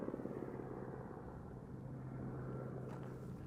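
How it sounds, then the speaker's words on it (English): Helicopter near the Arizona border wall at Naco, flying by and hovering overhead with a steady, continuous rotor drone that holds at a fairly even level throughout, no voices. "Chopper is doing a little bit of a flyby. More or less just kind of hovering over"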